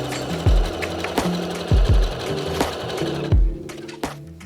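A sewing machine stitches a seam on a Lottie top in slow, uneven runs, its motor whirring under a series of heavy thumping beats, close and fairly loud.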